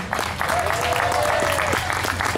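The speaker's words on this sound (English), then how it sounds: "Give them a round of applause for doing that for Keith Whitley." A round of applause at an award presentation honoring Keith Whitley, a dense, sustained clapping crowd at steady volume, with a voice and a faint tone carrying underneath.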